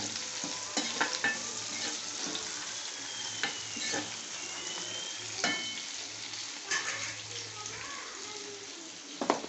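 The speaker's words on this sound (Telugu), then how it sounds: "ఆనియన్స్ కలుపుకున్నా ఆనియన్స్ కొద్దిగా వేగనిద్దాం" Onions frying in a pan while being stirred, a soft steady sizzle with scattered scraping and clinking of a spoon against the pan, fairly quiet with a voice speaking over it.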